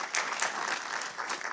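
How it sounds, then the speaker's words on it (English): A panel at a regional economic summit gets a short burst of brisk, dense audience clapping that lasts under two seconds. "quick round of applause for our panel here."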